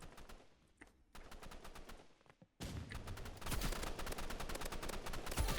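Rapid bursts of automatic gunfire from a weapon in the Roblox Rivals game, with a short sparse volley first and then a long dense, loud stream of shots that emptied the magazine.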